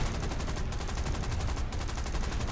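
Rapid bursts of aircraft machine gun fire in the War Thunder flight game, dense repeating shots from an F2A-1 fighter in a dogfight, loud and continuous with a brief pause.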